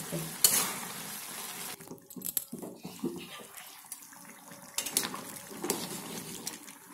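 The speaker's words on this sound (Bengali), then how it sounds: "এটিকে আমরা বেশ কিছুক্ষণ কষবো, প্রায় 5 থেকে 10 মিনিট।" Minced meat (keema) cooks down in its own released juices in a pan, a low wet sizzle with irregular scrapes and clatters of a spoon stirring, close and fairly quiet, no voices.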